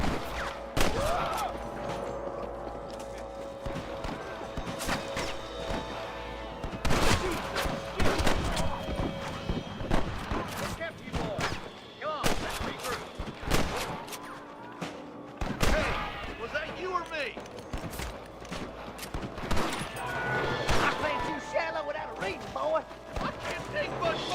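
Video game shootout with horses and a marshal: bursts of gunshots and volleys crack repeatedly amid hoof clops and shouting voices, loud and busy throughout.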